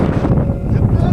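Strong wind buffets the microphone at Thalanar viewpoint in Valparai, a steady low rumbling roar that fills the whole short stretch at close range.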